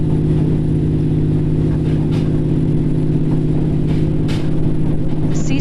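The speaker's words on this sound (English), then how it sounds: "it starts off using the electric motor and then generates electricity using the engine" A steady low engine rumble and whir from inside a Seaside Liner hybrid train, which starts on its electric motor and then runs the engine to generate power, running continuous and even throughout with a few faint clicks and no talk.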